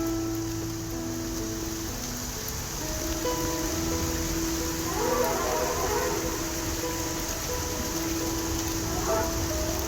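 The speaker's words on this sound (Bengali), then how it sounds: "ভালোই বৃষ্টি হচ্ছে" Steady heavy rain falls outdoors on a morning street, a broad, even hiss with soft patter that holds throughout without speech.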